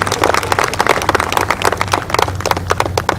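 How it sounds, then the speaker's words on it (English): Audience applause at a stage dedication event, a dense burst of many hands clapping loudly and steadily throughout, close and full. "So give yourselves a round of applause for coming out tonight."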